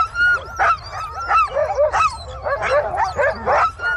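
Dogs bark in short yips and whimper in a rapid, uneven string of high calls, close and fairly loud, with no voices over them.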